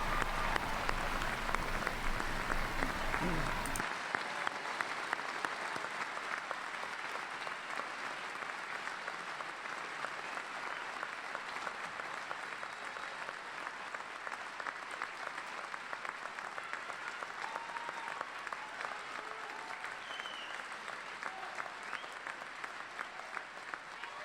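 A commencement crowd applauds doctoral degree recipients at a university graduation ceremony, with sustained dense clapping from a large audience in a big hall that holds steady for the full length.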